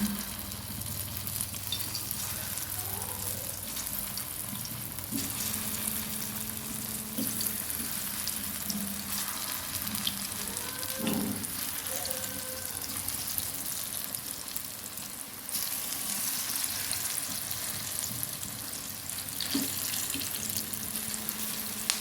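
Steady hot-oil frying hiss as pieces of breadfruit deep-fry, with occasional louder crackles and spatters, close by and with no talking.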